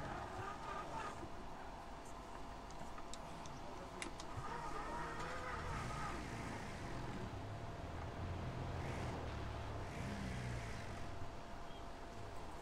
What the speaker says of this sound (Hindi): तो यहाँ से मैं गाड़ी घुमाता हूँ।